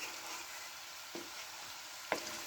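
Boiled potatoes fry in a stir-fry pan with spicy chicken, a faint steady sizzle with two brief clattering stirs of the pan partway through and near the end.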